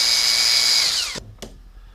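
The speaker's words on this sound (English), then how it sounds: "Let's drill our hole first of all." A power drill bores a hole through a steel piece for a 1/14-scale lowboy trailer build. Its loud, steady high whine runs for about a second, winds down and stops, then gives one short second burst.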